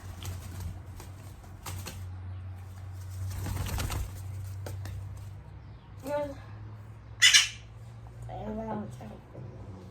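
A young magpie held in the hand indoors gives a few short, harsh squawks close by, separated by quiet stretches over a low steady hum, with a voice faintly present.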